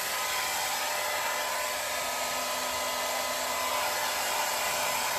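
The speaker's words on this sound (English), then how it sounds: "Let me put the dryer on it for a minute." A hair dryer blows on a painted vintage sewing cabinet, a loud, steady, close whooshing roar with a constant motor whine that runs without a break.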